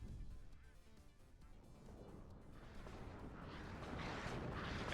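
Artillery fire rolls through in the WARNO war video game, a low booming rumble that swells and builds toward the end, distant and heavy, with a faint hiss of battle layered over it.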